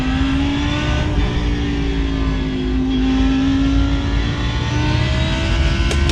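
Lamborghini GT3 racing car at Donington Park in a racing video game, its engine droning loud and steady with slight pitch shifts as it holds speed, close and continuous throughout.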